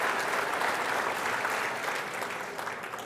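Audience applause at a Canadian Horse Racing Hall of Fame event, a dense, steady wash of many hands clapping that tapers slightly toward the end.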